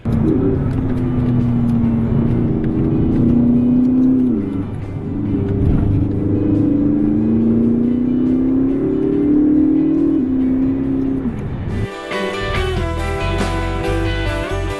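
A Pescarolo race car laps the Bugatti circuit at Le Mans, its engine droning loud and steady with rising and falling pitch through gear changes, a brief dip near the middle, then an abrupt cut to different, brighter sound near the end.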